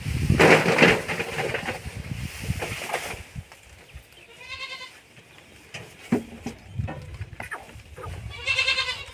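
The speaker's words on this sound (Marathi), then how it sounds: "बघा मित्रांनो उसाची वारीशिवाय शेळ्या आवडीने खातात" Goats feeding on sugarcane tops bleat loudly several times, with a burst of noise at the start and further bleats scattered through the clip, alongside faint rustling and chewing.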